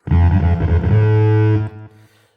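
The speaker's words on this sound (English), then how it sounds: "That's a nice little patch with echo on it" A synth patch with echo plays on the Black Pill (BP Synth), a DIY build. One bright, buzzy sustained tone holds, then cuts off and leaves fading echo repeats that die away.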